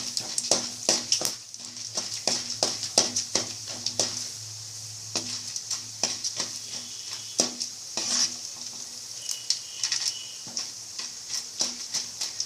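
Chana dal and mustard seeds fry in hot oil for rava upma, with a steady close sizzle and frequent sharp clinks and scrapes of a spatula stirring against the pan.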